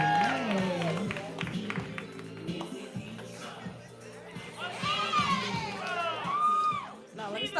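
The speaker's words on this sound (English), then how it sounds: "Y'all clap it up" A live event crowd cheers, whoops and claps in a lively mix, with an emcee speaking loudly over the noise and excited shouts rising toward the end.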